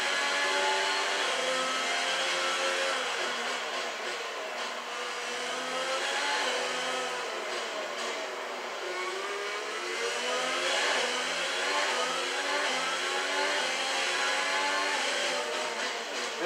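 A Formula 1 race car engine in F1 2020 at the Singapore Grand Prix holds a sustained high, wavering whine for the whole stretch, shifting pitch with gear changes and throttle, loud and alone.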